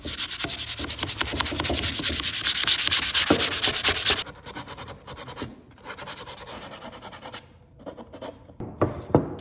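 Varnish being sanded off a wooden axe handle makes rapid, rhythmic back-and-forth scratching, loud and close for about four seconds, then breaking into softer, irregular rubbing strokes with pauses and a few sharper scrapes at the end.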